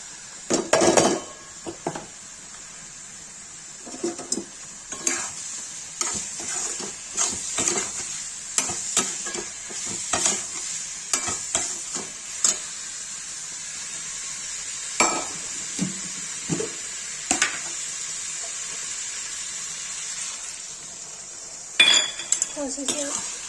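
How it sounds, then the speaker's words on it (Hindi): Vegetables being stirred in a pan while cooking a Kashmiri mushroom and capsicum sabji, with repeated scraping and clinking of a utensil against the pan over a steady soft sizzle and no talk. "अब इसमें शिमला मिर्च मशरूम मिला देंगे"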